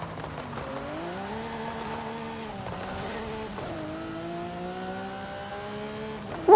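A Lamborghini Aventador Ultimae in Forza Horizon 5 revs hard through low gears, its rising engine note climbing and dropping in steady sweeps, loud and continuous with no talk.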